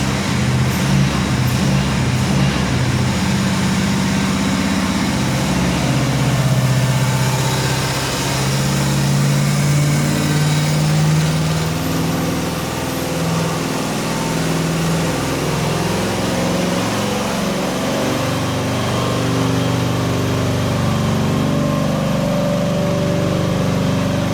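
A loud GM LS3 430-horsepower V8 crate engine runs steadily on a dyno for the whole stretch, a constant rumbling drone with slight shifts in pitch.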